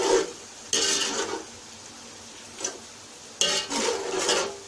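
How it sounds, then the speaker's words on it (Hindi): Masala with a little added water being stirred and fried in a pan for tomato and aubergine bharta, giving a few broadband scraping, sizzling bursts close by with quieter gaps between, no talk. "अब इसमें थोड़ा सा पानी डालकर इस मसाले को अच्छी तरह से भून लेंगे"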